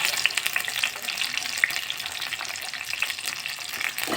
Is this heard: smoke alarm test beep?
no